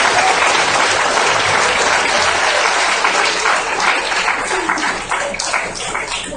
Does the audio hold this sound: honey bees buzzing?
no